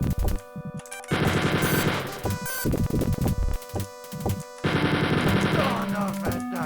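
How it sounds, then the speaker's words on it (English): Rapid bursts of automatic gunfire from the Wolfenstein 3D video game, loud and harsh, with two long sustained volleys split by short pauses and scattered single shots. "we just run around and shoot"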